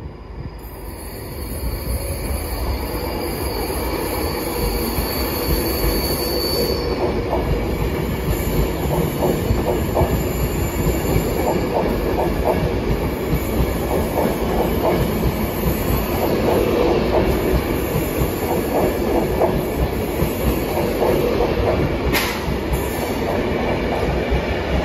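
Class 390 train 390156 departs platform 4 at London Euston, bound for Manchester Piccadilly. A steady, loud rumble of wheels rolls past with a high, sustained whine overhead and faint intermittent clicks of rail joints.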